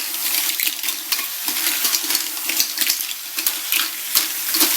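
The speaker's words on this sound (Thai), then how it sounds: "เอามาผัดเลยครับ ผัดกับพริกไปก่อน" Large surf clams stir-fried with chili in a hot wok, a loud, continuous sizzle with rapid scraping and tossing throughout, heard close and with no talking.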